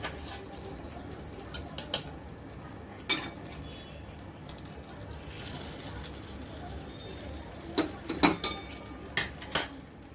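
Clinking of a spoon against a metal pan and a soft pour as chutney is added to hot tempering and stirred, with scattered sharp scrapes and clatters near the end over a quiet kitchen background.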